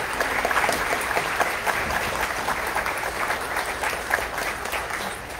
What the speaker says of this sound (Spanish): Vamos a darle un fuerte aplauso a Ana Paulet.